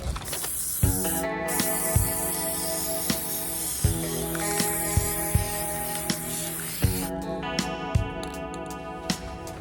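Paint sprayer coating a china hutch cabinet, a continuous hissing spray with a tonal mechanical whine, broken by regular sharp ticks and a brief pause midway, close and fairly loud with no talking.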